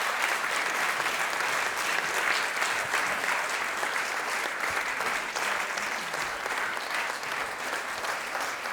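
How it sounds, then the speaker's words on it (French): An audience at a conference gives the speakers a last round of applause, a dense, sustained burst of clapping that holds steady and loud for several seconds before easing slightly, with no speech over it. "Et on peut les applaudir une dernière fois."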